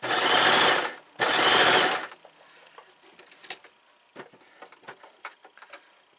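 A Brother LS 2125i sewing machine runs in two loud, close bursts of rapid needle stitching through fabric, followed by quieter clicks and handling taps as it stops.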